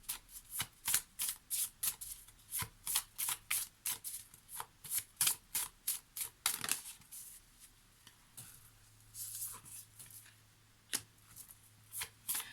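Oracle cards being shuffled by hand, a quick run of crisp riffling snaps and flutters repeating close and clear for the whole stretch, with no talking.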